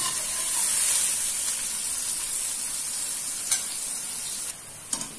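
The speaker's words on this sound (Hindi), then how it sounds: "मैं प्याज जो है घी में फ्राई कर रही हूँ।" Three medium onions fry in hot ghee over a medium flame, a steady close hiss of sizzling with a couple of brief utensil taps near the end.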